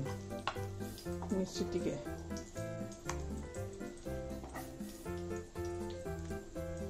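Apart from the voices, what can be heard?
fish egg pakora batter frying and splattering in hot oil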